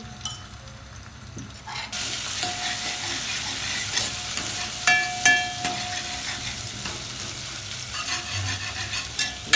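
Crushed ginger-garlic paste frying in oil for a Dhangari chicken dish, with a close continuous sizzle and repeated stirring scrapes from a spoon against the pan.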